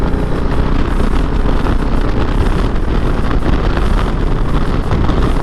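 A 2023 Harley-Davidson Low Rider ST softail motorcycle accelerates on a highway after a downshift from fifth to fourth gear. The engine drone is buried under loud, steady wind buffeting for the whole stretch, and no one speaks.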